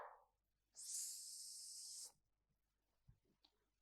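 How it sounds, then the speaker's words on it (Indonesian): A snake gives one sharp, loud hiss lasting just over a second, followed by a few faint knocks and rustles in otherwise quiet surroundings. "Suara ular."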